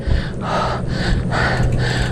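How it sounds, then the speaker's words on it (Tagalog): A cyclist pants heavily while pedaling uphill toward Victoria Homes and Vista Alabang, with loud, rhythmic gasping breaths repeating close to the microphone over steady background noise. "Hingal."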